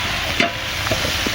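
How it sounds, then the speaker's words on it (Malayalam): Onions and biryani masala fry in a pot for coconut milk chicken biryani while a spoon stirs them. Close, loud sizzling is broken by a few quick scraping stir strokes, with no talk. "അപ്പോൾ ഇളക്കി കൊടുക്കുന്നുണ്ട് കേട്ടോ"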